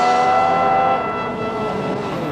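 A rally car's engine roars as it accelerates hard, a loud, close, dense drone that eases slightly after about a second and then holds steady.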